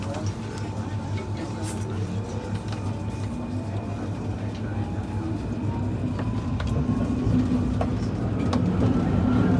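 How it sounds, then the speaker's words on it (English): A crowded Paris metro train at rush hour rumbles along with a steady low drone, squealing wheels and scattered rattles and clicks, growing slightly louder near the end. "this is probably the busiest metro line I've ever been on"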